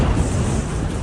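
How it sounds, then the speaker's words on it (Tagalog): A building explosion in Tyre, Lebanon, in news footage: one dense, roaring blast rumbles continuously at full loudness for about a second, with no talk. "Sa pulsa video ang pagsabog ng gusaling yan sa Tyre, Lebanon"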